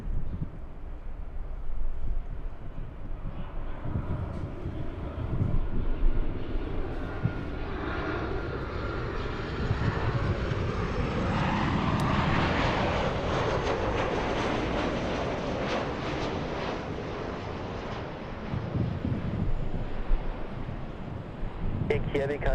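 A Virgin Atlantic airliner passes over Los Angeles airport, its jet roar swelling gradually, peaking midway and slowly fading, heard from a distance with voices talking throughout.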